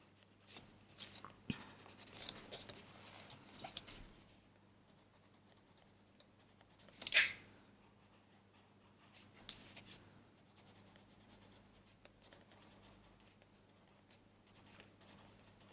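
Bronze coloured pencil shading yellow leaves in a colouring book: soft, quiet scratchy strokes in irregular bursts, close to the microphone, with a few louder scrapes and pauses between passes.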